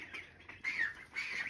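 Geese on a farm give a few short honking calls close by, in two or three bursts against quiet background.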